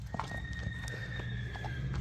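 A horse for sale is led around and walks on hard ground, its hooves clopping softly under faint, steady background noise, with a brief whinny.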